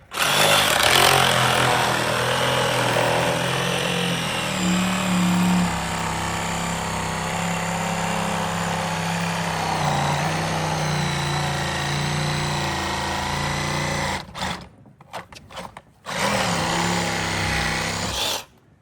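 A power tool with a long blade cuts into the foam insulation of a leaking electric water heater, a loud sustained buzzing rasp that runs steadily, then breaks into brief stops and restarts near the end.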